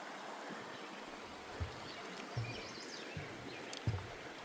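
A small woodland stream on the Appalachian Trail in North Carolina trickles steadily beneath a sturdy footbridge, a soft continuous wash with occasional faint low thumps, no voices.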